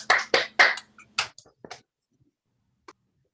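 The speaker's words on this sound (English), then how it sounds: "So we'll just do some lukewarm applause" Lukewarm applause over a Zoom call: a few scattered claps, close and brief, with several quick ones at first and then thinning out into isolated taps before silence.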